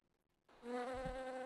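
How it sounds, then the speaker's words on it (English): A bee buzzes near a pink lady's slipper orchid, a faint steady drone that starts abruptly after a moment of near silence and holds on evenly to the end. "Let's look at an encounter with a bee."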